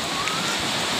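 Heavy rain pouring near Chanda Dhara waterfall in Jarigan, a dense, constant hiss of falling water filling the space with no breaks.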